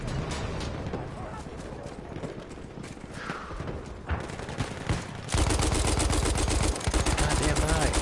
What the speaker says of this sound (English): You're shooting your own guy, idiot.